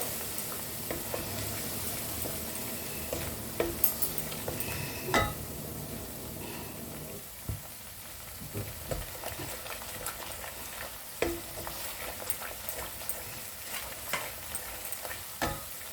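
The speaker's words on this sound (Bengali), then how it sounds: "মশলাটা ভালো করে ভাজবো।" Spice paste frying in a pan for a cauliflower dish, a soft continuous sizzle with scattered clinks and scrapes of stirring, fairly quiet and close.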